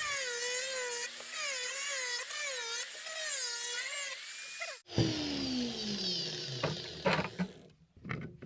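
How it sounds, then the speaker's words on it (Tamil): A tool cuts a round hole in a 20-litre plastic can, first with a steady high warbling whine, then a sudden break into grinding, scraping and rattling bursts that fade toward silence. "இன்னொரு டுவெண்ட்டி லிட்டர் கேனில் ஒரு குறிப்பிட்ட அளவு இந்த ரவுண்டை மட்டும் கட் பண்ணி எடுத்துருவோம்"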